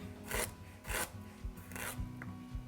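A knife roughly cuts ginger into coarse pieces on a cutting board, giving four or five soft, evenly spaced rasping strokes, quiet and close, with no voices.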